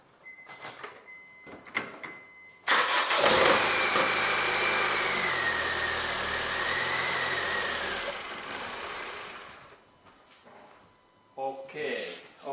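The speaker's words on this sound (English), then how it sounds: "now I go to start my car, that we can hear that how this engine really starts" A 1.8-litre Honda Civic engine cranks and starts, then settles into a steady, moderately loud idle with a whining tone for several seconds before cutting off, with a voice speaking before and after.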